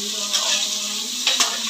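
Sliced onions sautéing in hot oil with cinnamon and cloves for fish biryani, a steady bright sizzle with occasional stirring scrapes in the pan.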